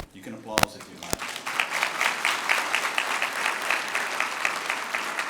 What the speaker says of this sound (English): You can applause if you like.